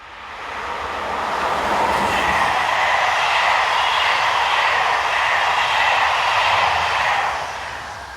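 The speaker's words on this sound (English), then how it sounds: "Heading north we have 7240 on the 1510 additional service from Lyon to Paris" French electric locomotive 7240 hauling a northbound passenger train from Lyon to Paris on the Mâcon to Chalon-sur-Saône main line swells into a loud, steady rushing roar as it passes close by, then fades slightly at the end.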